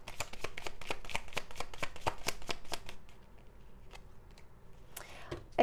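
Tarot cards shuffled in a quick run of sharp, close snapping flicks, then slowing to a few scattered taps and soft slides as cards are drawn, ending with a louder rustle.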